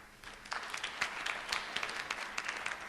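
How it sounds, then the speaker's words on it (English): Audience applause at a school district board meeting honoring three golf qualifiers, a steady patter of many hands clapping at moderate distance, fairly faint, with no talking. "Let's give them an applause."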